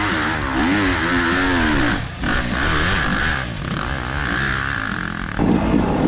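Off-road dirt motorcycle engine revving and pulling away on a trail, loud and steady throughout with pitch rising and dipping as throttle changes, a brief drop near the two-second mark and a louder surge at the end.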